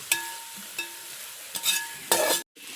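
Onions and chicken sautéing in a pan, with a few distinct metallic stirring scrapes and clinks spaced across a soft continuous sizzle, close up and with no voices.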